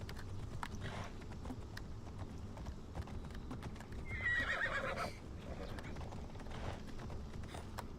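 A horse in the video game Assassin's Creed Odyssey gives a sharp whinny over the steady clip-clop of its hooves, amid game background sounds.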